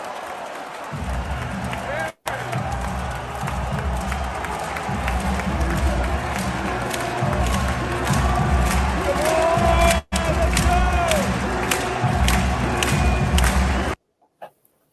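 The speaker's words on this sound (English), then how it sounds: "Definitely an electric crowd, for sure." Loud, steady crowd roar at a Stanley Cup Finals hockey game, with cheering swelling and sustained throughout, a few abrupt cutouts, and voices in the mix.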